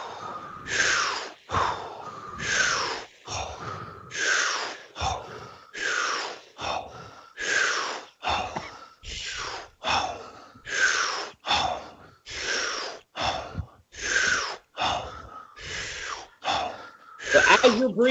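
Deep, full breaths in a breathing exercise, drawn in from the belly and released in a steady rhythm of about twenty close, loud, airy cycles, with no voice over them.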